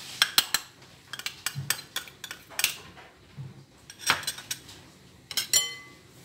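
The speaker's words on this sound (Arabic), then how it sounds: "صافي نخلط الكل مع بعضياتهم" Irregular metallic clinks and scrapes of a spoon against a bowl while mixing milk and cornstarch, close by, in quick uneven bursts with short pauses, no talking.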